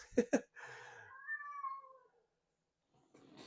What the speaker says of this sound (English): My daughter's meowing cat.